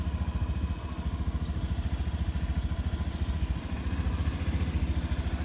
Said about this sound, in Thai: เครื่องติดครับก็คือสามารถขับขี่ได้เลยครับ